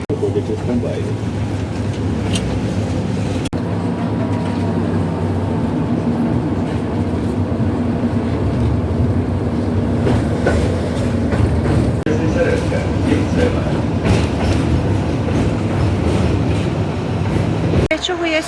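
Steady low rumbling and rattling of a moving tram heard from inside, continuous throughout, with people talking faintly in the background.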